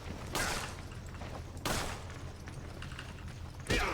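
Gunfire in Resident Evil 5: three separate loud shots spaced a second or two apart, each a sharp burst with a short tail, over quiet in-game ambience.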